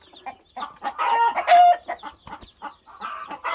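Several Cornish cross chickens raised on pasture in a chicken tractor cluck and squawk close by in short, irregular bursts, with a couple of louder, higher calls in the middle.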